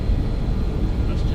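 BAE146 jet engines spool up toward takeoff power in X-Plane 11, a loud rumbling roar building under a speaking voice.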